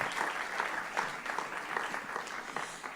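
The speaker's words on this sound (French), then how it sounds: "Vous pouvez les applaudir, ça les encouragera." A conference audience at an ocean-science round table in New Caledonia claps steadily for about three seconds, a moderate, even patter of many hands heard from within the room.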